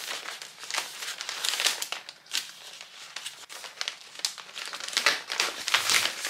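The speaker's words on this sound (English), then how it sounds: "You're gonna fold it once, fold it twice, side first." Florist wrapping paper is folded around a bunch of flowers, giving steady close crinkling and rustling with sharper crackles as the sheet is creased, continuing without pause.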